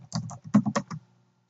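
A short burst of computer keyboard typing for a livestock database search, about five quick clustered keystroke taps, close and clear, ending in quiet.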